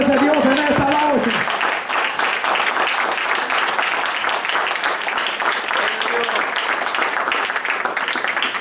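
A church congregation claps for God during an evening service, sustained dense applause filling the space after a brief spoken phrase at the start, loud and steady throughout.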